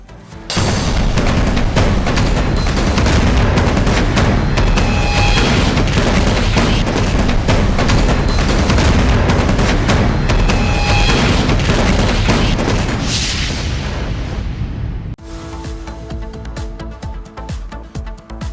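Russian missile strikes and explosions in Ukraine roar as a loud, continuous booming rumble for about fifteen seconds, then drop to quieter crackling and rattling.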